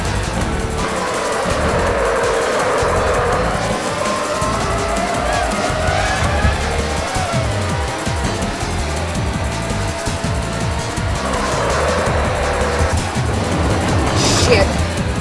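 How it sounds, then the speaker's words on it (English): A Formula One race car in the N64 game F1 World Grand Prix 2 keeps up a loud, steady engine whine while its tires skid and squeal, with a voice speaking over the racing noise at times. "Why did my car skid?"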